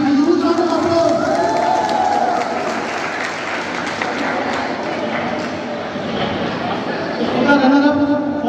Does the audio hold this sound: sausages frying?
no